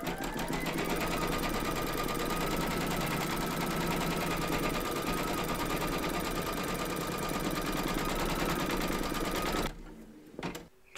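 An embroidery machine stitches a securing round through batting taped over an appliqué outline in a hoop, giving a loud, steady, rapid mechanical chatter for nearly ten seconds before stopping abruptly, followed by a few faint clicks.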